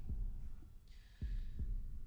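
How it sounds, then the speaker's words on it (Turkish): Slow, heavy heartbeat thumps in a Turkish horror film, deep and muffled, with a few beats spaced unevenly over a dark, low ambient hum. "Şimdi kalp atışlarınızı duymamaya çalışın."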